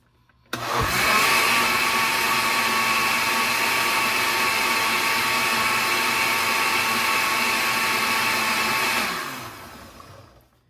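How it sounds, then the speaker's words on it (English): A blender whirs loudly and steadily as it mixes paper pulp, running continuously for about eight seconds before spinning down to silence. "So what I'm gonna do now is I'm gonna mix this up, so hold your ears."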